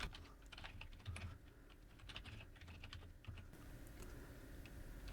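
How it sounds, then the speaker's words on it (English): Someone types quickly on a computer keyboard while entering HTML code, producing soft, irregular clicks and key taps in bursts. The sound is close and faint in a quiet room, with no speech. "I'm going to type onloaded metadata"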